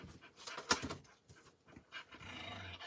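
A jealous dog panting quickly and giving a low growl and faint whimper, close by but quiet, with no speech.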